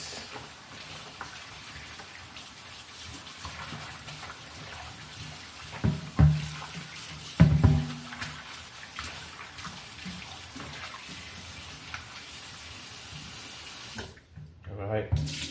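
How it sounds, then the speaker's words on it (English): Tap water runs steadily into a sink as turkey wings are rinsed, a continuous splashing hiss with a couple of louder clunks and handling bumps midway before the flow cuts off near the end. "Give them a good rinse."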